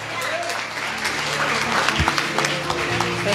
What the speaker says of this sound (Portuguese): Vamos aplaudir ao Senhor pela vida dela.